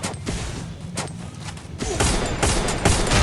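Rapid gunfire bursts in the mobile battle royale game Free Fire, sharp repeated cracks and thumps building in intensity, close and loud over a busy in-game backdrop.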